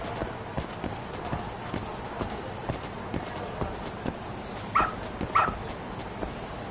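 A dog in the video game Lost Judgment trots with steady, rhythmic footfalls, then gives two short, sharp yips close together near the end.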